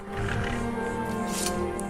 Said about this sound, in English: Oh, there's a wolf.